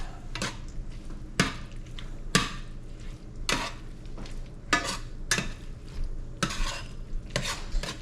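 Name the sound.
whisking beaten eggs into meat in a hot pan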